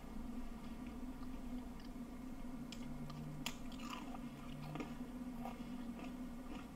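Someone chews a crunchy shortbread-like cookie close to the mic, with soft crunches and bites over a low steady background hum, quiet and continuous with no talking.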